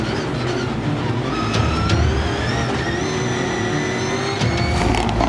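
Blue Subaru rallycross car racing, its engine revving and surging through gear changes with a harsh, loud roar over background track noise.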